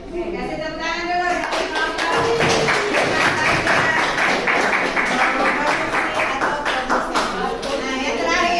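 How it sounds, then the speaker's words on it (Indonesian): A class of students claps steadily and fairly loudly, a dense pattern of hand claps running throughout, with children's voices mixed underneath. "kasih tepuk tangan dulu"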